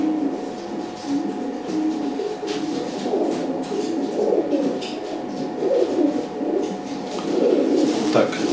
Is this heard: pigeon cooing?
yes